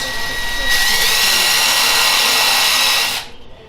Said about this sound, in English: we're gonna use the pre-drill bit, and we're gonna go all the way around this